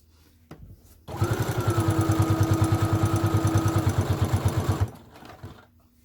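A sewing machine stitches a dog leash in one long, steady run of rapid, even stitches. It starts up sharply, holds a loud, regular mechanical rhythm for almost four seconds, then stops.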